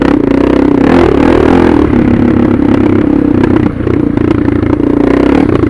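A Suzuki DR650 fitted with a Procycle jet kit rides in fifth gear on a road, its single-cylinder engine droning loud and steady with constant rumble and wind buffeting, easing briefly before pulling on again.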